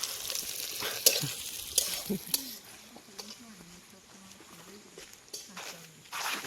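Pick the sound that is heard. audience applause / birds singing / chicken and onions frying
chicken and onions frying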